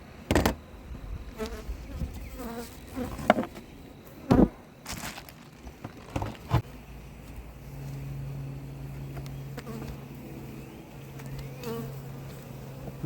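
Steady buzzing of many honey bees during a hive split fills the clip, with a low continuous drone and occasional louder bursts and knocks close by.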